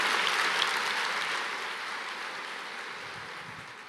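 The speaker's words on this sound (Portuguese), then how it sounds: "Aplauda mais ao Senhor" A church congregation applauds in a dense, steady wash of clapping that fills the space and slowly fades over a few seconds.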